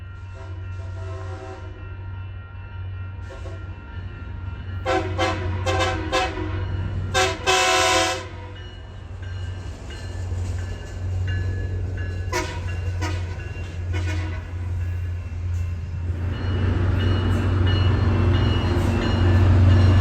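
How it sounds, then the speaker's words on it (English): A northbound FrontRunner commuter train passes with its locomotive pulling, with several horn blasts over a steady rumble that grows louder as it nears. "right now we have another front runner. This one's a northbound, so we'll get to see the engine pulling the train."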